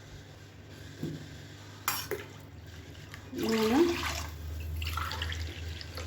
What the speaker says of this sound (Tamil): இன்னும் கொஞ்சம் எக்ஸ்ட்ரா தண்ணி சேர்த்துக்கலாம்.